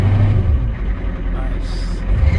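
A car engine, first started after four weeks sitting idle, revs and rumbles loudly up close, its low throbbing steady through the short stretch with a voice talking over it.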